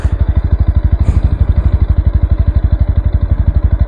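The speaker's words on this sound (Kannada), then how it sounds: "ಸ್ಟಾರ್ಟ್ ಮಾಡಿ ಸೌಂಡ್ ಕೇಳಬೇಕು ನೋಡಿ. ನಾರ್ಮಲಾಗಿ ಈ ಥರ ಕೇಳಿಸುತ್ತೆ." A 2024 Bajaj Pulsar NS160 motorcycle idles close by with a deep, bassy engine beat. The thumping pulse is loud, rapid and very even throughout, and no one speaks.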